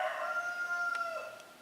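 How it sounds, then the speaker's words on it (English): A cockerel crows outdoors in one long drawn-out call, clear and moderately close, fading slightly at the end. "that cockerel's going to put me off"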